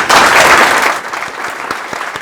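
Sommeliers at a biodynamic wine symposium receive a loud burst of audience applause that thins within a second into scattered individual claps.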